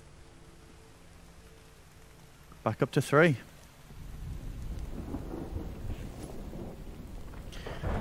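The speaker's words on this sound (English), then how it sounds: "Rain sounds great." Steady rain with rumbling thunder in The Infected survival game, a dense wash of rainfall swelling over the second half, preceded by a brief burst of a man's speech.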